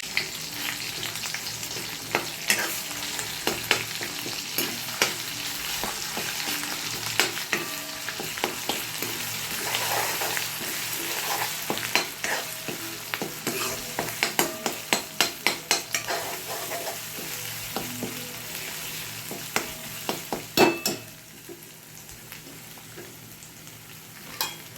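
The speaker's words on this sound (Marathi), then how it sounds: "मसाला थोडासा भाजल्याच्या नंतर फ्राय झाला आहे तो थोडा" Ground masala fries with curry leaves in a pan for a raw pigeon pea pod curry, under a steady sizzle. Repeated spatula scrapes build into a quick burst of strokes before the frying quiets near the end; no talking.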